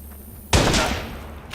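A single loud gunshot in the video game Watch Dogs lands a headshot, a sharp close bang with a short decaying tail and no other sounds.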